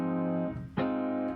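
Sixth chord with an old-fashioned jazz flavour, sounded twice in quick succession: a sustained chord, a brief break, then a fresh attack ringing clearly with no speech.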